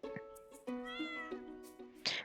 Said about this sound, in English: she's here to give me a cat